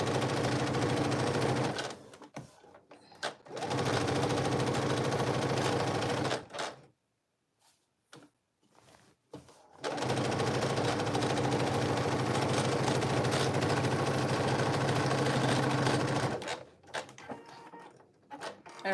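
A sewing machine stitches side and back seams to take in the waist of DIY cargo pants, running in three long steady bursts separated by brief pauses with soft handling sounds.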